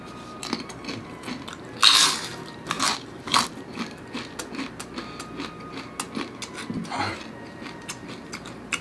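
Bites and crunches of a Paqui Carolina Reaper One Chip Challenge chip, close and dry, a loud first bite followed by a series of irregular crunchy chews.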